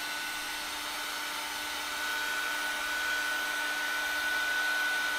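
An embossing heat tool blows hot air in a steady, loud, close whoosh with a constant whine, growing slightly stronger partway through and running on without any speech.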